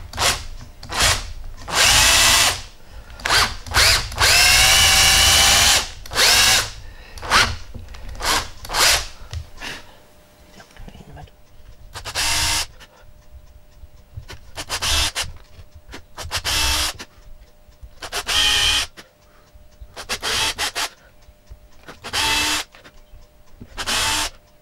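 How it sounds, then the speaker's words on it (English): A power drill bores holes into a Stratocaster-style partscaster guitar body in repeated loud bursts of whirring, some long and some short, separated by brief quiet pauses. "So we're needing some holes right in the middle of the marks."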